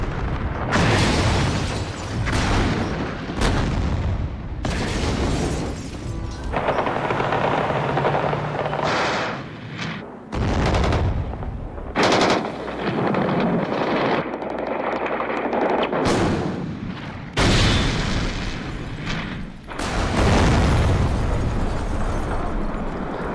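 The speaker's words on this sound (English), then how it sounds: "he ordered troops to storm the White House, shelling the very building he had defended 2 years earlier" Troops storming the White House in Moscow fire heavy weapons and shell the building, with loud, continuous bursts of machine-gun fire and booming shell blasts that rise and fall, with occasional brief lulls.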